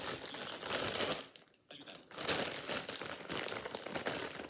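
Crinkly plastic packaging around brioche muffins being opened, a dense close crackling and rustling that dips briefly, then resumes steadily with no talking.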